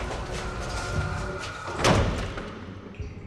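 A stuck door with an old handle and no lock is forced at a B&B. Dull thumps and rattling sound against a noisy room, with one louder, sharper bang near the middle.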